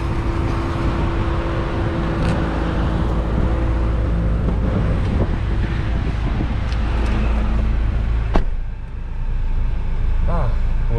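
A tuned Volkswagen Mk7 GTI with a fully built engine drives along, a loud, steady engine and road drone heard from inside the cabin with a brief thump near the end.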